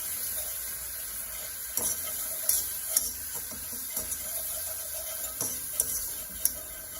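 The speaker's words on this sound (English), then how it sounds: "I'm going in with about a tablespoon of butter and a tablespoon of flour, plain flour. And you just want to mix that up." Butter and plain flour stirred together in a pan for a roux, a steady soft sizzle running underneath with occasional light clicks and scrapes of the utensil, close and fairly quiet.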